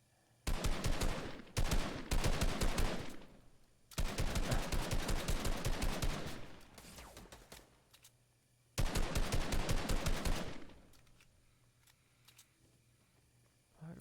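Rapid automatic gunfire from an online shooter video game, arriving in three loud sustained bursts separated by short pauses, with faint game ambience in between.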